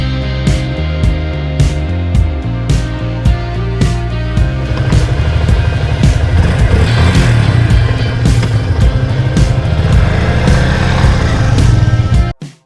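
A Yamaha FZ25 motorcycle rides by loud and close, its engine pulsing at first and then climbing into a sustained busy drone as it accelerates, ending abruptly.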